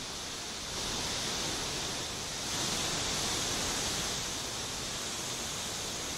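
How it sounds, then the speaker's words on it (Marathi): A monsoon-swollen waterfall overflowing in Lanja, Ratnagiri, after heavy rain, producing a constant, even roar of falling water that swells slightly midway, with no voices. "रत्नागिरीत धबधबे ओसंडून वाहू लागलेले आहेत"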